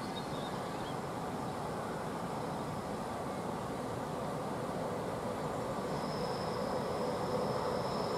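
A train rolling past on the Brenner railway line, a steady, continuous rumble and clatter of wheels on track held at an even level, with a faint squeal toward the end.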